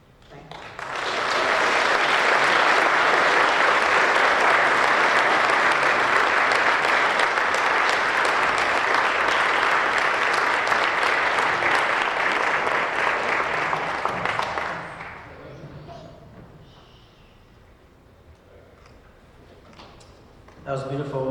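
Sustained loud applause from a large audience at a fantasy and science fiction awards ceremony, a dense even roar of clapping lasting about fourteen seconds before fading out, followed by quieter room sound and a brief voice.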